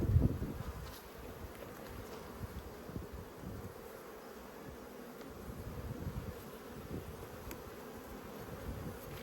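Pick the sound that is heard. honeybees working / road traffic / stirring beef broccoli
honeybees working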